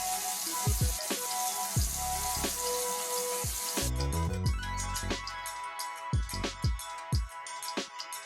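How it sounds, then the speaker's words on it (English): Tap water runs steadily while someone wets their hair at a sink, with a continuous broadband splash and intermittent sharper drips and taps. The flow sounds fuller in the first half and thins into scattered splashes afterward. "Wet my hair this way."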